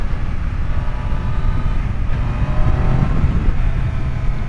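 A Triumph Daytona 660 motorcycle accelerates hard from around 5,000 RPM, a loud continuous engine roar with wind rush that holds steady and builds slightly, no talking.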